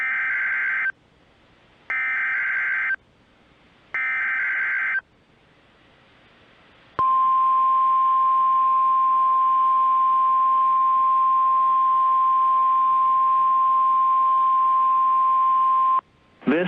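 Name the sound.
NOAA weather radio warning alarm tone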